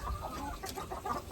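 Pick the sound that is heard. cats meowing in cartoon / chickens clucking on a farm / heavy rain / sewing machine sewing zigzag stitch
chickens clucking on a farm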